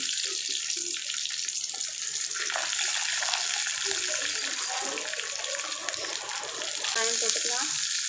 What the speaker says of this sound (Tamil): கருவேப்பிலை, கொஞ்சம் ஃப்ரை ஆகட்டும்.